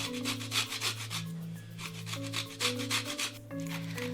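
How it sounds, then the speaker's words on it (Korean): Three lemons grated for zest on a grater, heard as a steady series of close, rhythmic rasping strokes over a background of soft instrumental music. "그동안 준비해둔 레몬 3개의 제스트를 갈고 즙을 짜주세요."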